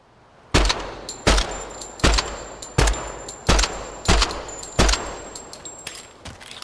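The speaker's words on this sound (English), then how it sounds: "It's like they crushed the sound of the gunshot." In the video game Project Silverfish, a Venator rifle with an integrated suppressor fires seven muffled, compressed shots at a steady semi-automatic pace, each a short loud crack with a brief tail.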